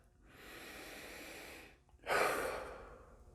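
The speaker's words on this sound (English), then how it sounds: "Take a nice deep breath." One slow, deep breath, a long steady inhale followed by a shorter, stronger exhale, close to the microphone in a quiet setting.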